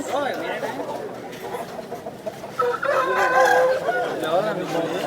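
A rooster crows loudly at a Vijayawada chicken market. The call rises out of busy crowd chatter and other nearby fowl clucking.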